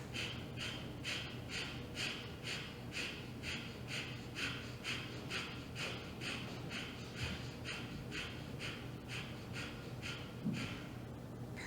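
Quick, forceful exhales through the nose in a youth yoga breathing exercise, about two sharp puffs per second in an even, unbroken rhythm, fairly quiet and close.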